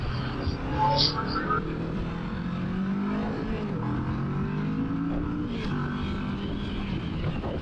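Motorcycle engine while riding, a 2024 Vulcan S or 2025 Rebel 1100T, with a steady rising and falling drone under wind noise and occasional rider talk.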